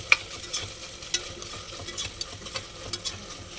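Homemade ginger paste sizzles gently after going into a hot pan, a quiet crackling hiss dotted with small irregular clicks and pops, close up and without speech.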